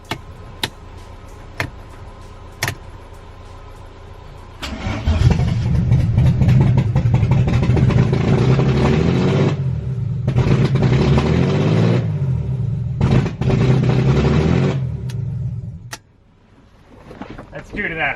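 A BMW E36 with its exhaust running straight out of the headers begins with a few sharp clicks, then starts and runs very loud and raw, with rough revving surges before it drops off near the end.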